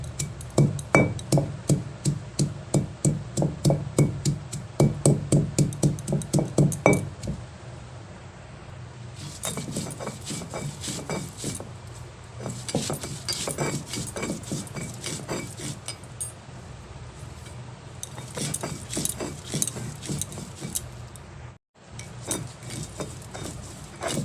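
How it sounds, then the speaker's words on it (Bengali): Kulekhara leaves, cumin, ginger and a green chili being ground into a spice paste by hand in a village kitchen, with a steady run of close, rhythmic knocking and grinding strokes that thin into scattered scraping. "কুলেখাড়া, অল্প একটু জিরে, আদা আর একটা কাঁচা লঙ্কা আমি বেটে নিই, দিয়ে দেবো।"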